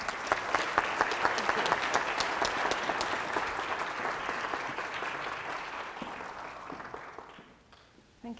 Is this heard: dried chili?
no